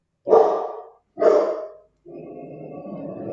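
A small dog barks twice, loud and close, then lets out a longer, lower growling vocalization, with short silences between the sounds.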